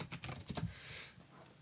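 Fast keyboard typing at close range, with quick uneven bursts of key clicks that trail off toward the end, no talking.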